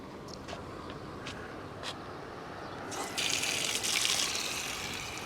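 Water runs steadily from a public drinking fountain on a seaside boardwalk in Paphos, a faint trickling that swells into a brighter, louder gush near the end.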